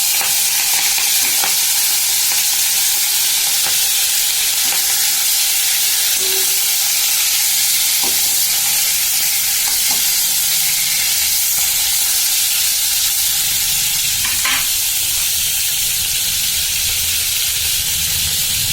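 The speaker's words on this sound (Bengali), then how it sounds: "সিলভার কাপ মাছটা ঝাল করব এই তেলের মধ্যেই আমি এই মাছগুলো ফুল দেবো" Silver carp pieces frying in hot mustard oil with kalo jeera tempering for a spicy fish curry, a steady loud sizzle and hiss running throughout with occasional stirring clicks and spatters, no talking.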